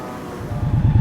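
An Indian Scout 1100 motorcycle rides off, its low engine rumble swelling into rhythmic pulses as it gains speed, with wind buffeting the microphone and no one talking.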